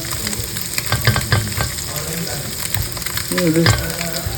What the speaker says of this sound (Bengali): ডিমগুলোকে ভাজা ভাজা করে নিলাম